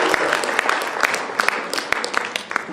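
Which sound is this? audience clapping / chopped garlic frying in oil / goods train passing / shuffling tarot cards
audience clapping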